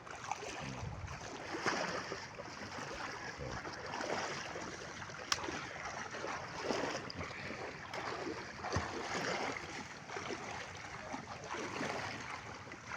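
Boats moored at a concrete landing on the water, with steady broadband wash of water and hull movement continuing throughout, occasional light knocks, no clear talk.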